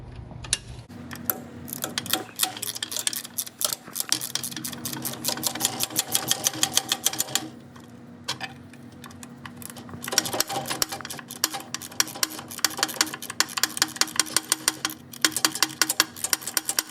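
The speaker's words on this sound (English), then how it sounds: "Now we're just going to get these 2 bolts out and remove this running board like we did on the other side." Bolts being removed from the running board of a 1940 Ford 9N tractor, with rapid, steady mechanical clicking like a ratchet wrench running in long bursts, a short lull partway through, close and fairly loud, no talking.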